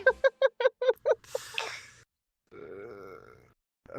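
A person imitates a goat scream: a rapid string of short bleating bursts, then a raspy drawn-out cry and a wavering nasal bleat after a brief pause, close and loud.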